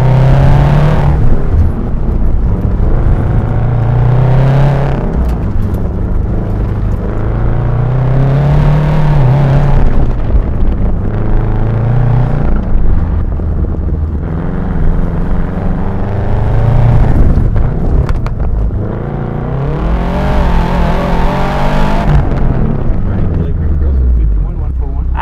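An autocross race car on a timed run, its engine revving up and dropping repeatedly in a cyclic pattern, loud and close as if heard from inside the car, with a driver talking over it.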